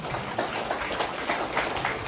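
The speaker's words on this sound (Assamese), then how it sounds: "উপহাৰটো প্ৰদান কৰিবলৈ ডাঙৰকৈ এটা হাত চাপৰি মাৰক।" Applause at a thanksgiving gift-presentation event, a steady wash of clapping from a gathered crowd holding at even level for a couple of seconds with no talk over it.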